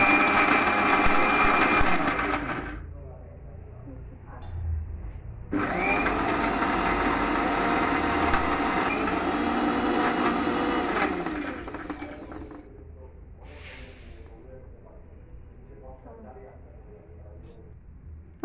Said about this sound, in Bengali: এরপর আবার ব্লেন্ডারে দিতে হবে এবং ব্লেন্ডার চালু করতে হবে।